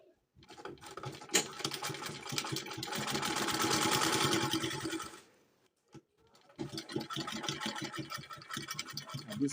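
A sewing machine stitches a trouser pocket, running in a fast, steady whir of rapid needle strokes, pausing briefly, then starting again for a short locking run; close and fairly loud, with no talk.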